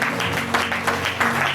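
A congregation at a church service applauding: dense, continuous clapping from many hands, loud and close, filling the whole moment.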